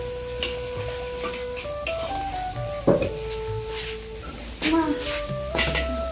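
Singara, the Bengali samosa, sizzle in hot oil in a home kitchen, a steady frying hiss under intermittent clinks and scrapes of a utensil, with some faint background voices or noise.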